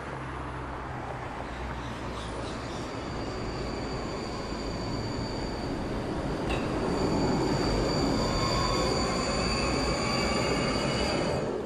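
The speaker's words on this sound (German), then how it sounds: "Ein B1-Zug am Hundertwasserhaus." A Vienna B1-type low-floor tram passes near the Hundertwasserhaus, a steady rolling rumble with squealing wheel tones and a swell as it nears, continuous over about twelve seconds with no talk.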